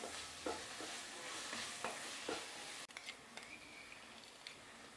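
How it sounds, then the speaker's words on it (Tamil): Mixed vegetables for Manchurian gravy sizzle softly in a pan while a utensil stirs and scrapes against it now and then, with a few sharp clicks. "இது கொஞ்ச நேரம் வதக்கலாம்."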